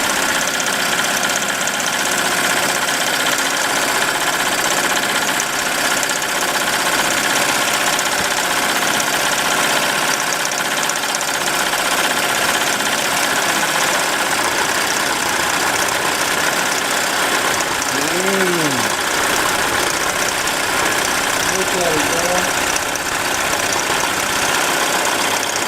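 A home-business embroidery machine running at speed, a loud, dense mechanical drone with rapid stitching chatter that holds steady throughout, with a few faint rising tonal chirps partway through.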